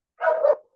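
A single short dog bark, loud and close, heard by itself during an online class.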